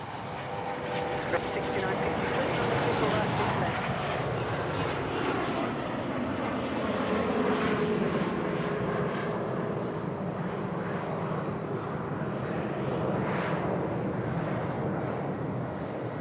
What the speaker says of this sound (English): Enjoy this 717-200 departure